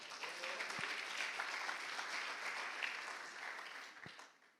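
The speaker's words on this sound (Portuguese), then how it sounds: "Vamos aplaudir o Senhor?" A church congregation claps together, a soft, steady patter of many hands that holds for about four seconds and then tapers off. It sounds faint and slightly distant, with a couple of light knocks in the middle.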